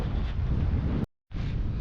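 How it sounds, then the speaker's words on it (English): Strong wind buffets a microphone on an exposed Scottish hilltop by an ancient hill fort, a loud rumbling roar that drops out briefly for a moment before gusting back in. "It's a strong wind coming towards me here"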